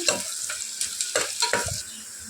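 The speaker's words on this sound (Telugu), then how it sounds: "ఇప్పుడు ఆనియన్స్ మంచి గోల్డెన్ బ్రౌన్ కలర్లో వచ్చేంత వరకు ఫ్రై చేసుకోవాలి" Onions frying in a pan with turmeric toward golden brown, heard as a soft close sizzle broken by several quick scraping stirs of a spatula in a short burst.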